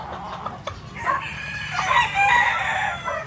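Yellow-legged hatch gamefowl roosters at a game farm crow and cluck, several calls overlapping at moderate distance in a steady farmyard scene, with no talk.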